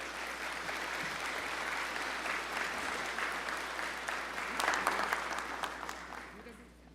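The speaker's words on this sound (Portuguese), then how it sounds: "Uma salva de palmas, por favor." An audience at a solemn military ceremony gives steady, moderately distant applause that carries on for several seconds and then fades at the end.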